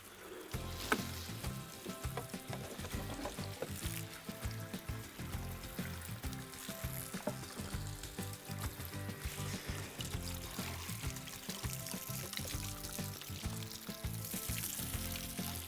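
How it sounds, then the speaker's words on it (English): Fresh water rushes and hisses steadily through a surfboard's jet drive for a long stretch, a constant splashing flow at moderate volume with no voices. "Now send a load of fresh water through the jet drive."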